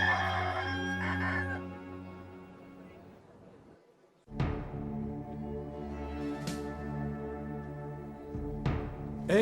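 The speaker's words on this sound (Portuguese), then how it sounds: "antes que o galo cante" A rooster crows loudly and near, in a long drawn-out call followed by a second crow over a sustained musical backdrop, in a dramatic film about Jesus.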